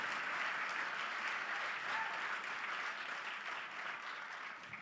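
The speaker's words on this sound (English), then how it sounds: "So round of applause, please, for all this epicness going on here." Audience applause at an awards and honoree event, steady dense clapping from a large crowd filling the whole stretch at even loudness with no voices over it.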